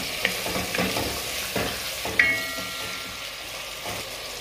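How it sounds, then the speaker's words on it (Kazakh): Meat and finely chopped onion frying in oil in a pan for Kazakh lagman, heard as a steady close sizzle with occasional stirring scrapes and one sharp clink, with no voices. "Өте етіміз қуырылып жатыр."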